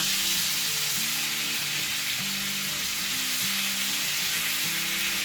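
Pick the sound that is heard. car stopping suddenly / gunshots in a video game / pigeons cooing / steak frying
steak frying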